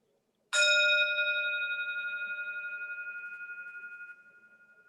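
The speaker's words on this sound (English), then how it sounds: "we'll use the sound of the bell to transition us from listening" A single meditation bell struck once at a Buddhist service, ringing out clear and close, then a long pure tone that slowly fades with a gentle pulsing shimmer.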